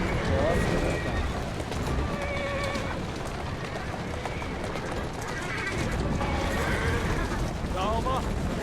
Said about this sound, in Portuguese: Quem é um bom cavalo? Você?